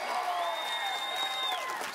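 Crowd applauding and cheering at a 2019 strongman overhead press event, a continuous roar of clapping with a tonal sweep over it and a commentator talking.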